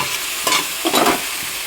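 A spice paste is stir-fried in a pan, giving loud, steady sizzling broken by a few quick scraping strokes of the spatula, with no voices.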